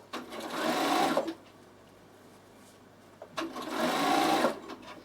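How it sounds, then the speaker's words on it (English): Bernina sewing machine stitching fabric for a storage basket, two bursts of fast mechanical whirring with a quiet pause between, close up and moderately loud. "Feed it along, needle down, and work your way around."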